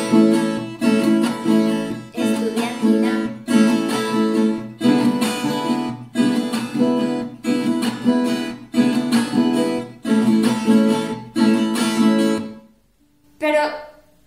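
Tiple strumming a bambuco accompaniment that starts each bar with a rest, giving repeated bright bursts of strokes separated by brief gaps, close and clear, with a final short strum after a pause.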